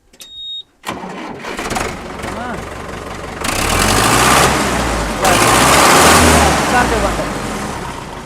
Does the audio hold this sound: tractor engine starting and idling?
yes